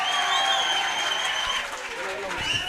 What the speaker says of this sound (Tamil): ஒரு கைதட்டு கொடுக்கலாம்.